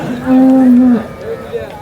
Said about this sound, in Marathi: मोठ्या मापाची गाय दुसऱ्या वेताला सायदा ती पहिल्यावरला दहा दहा लिटर पिळेली